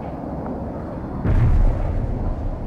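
A laser-guided bomb strike explodes in the strategy game World in Conflict: one heavy, deep boom rises sharply out of a low battlefield rumble, then rolls on loudly and slowly decays.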